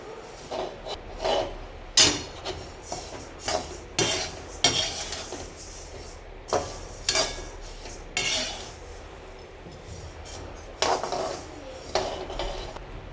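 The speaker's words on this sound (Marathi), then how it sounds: "हे गावठी धणे आहे हिरव्या कलरचे। मस्त भाजून घ्यायचे आहे।" Green country coriander seeds dry-roasting in a pan, stirred with irregular, close scrapes and rattling clinks that recur every second or so over a soft continuous hiss.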